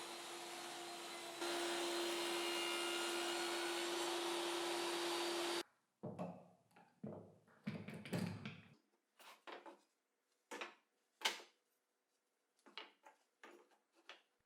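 Dado blade on a table saw cutting a channel in OSB for a threaded rod, a steady loud whine lasting several seconds before stopping abruptly, followed by scattered knocks and handling clatter.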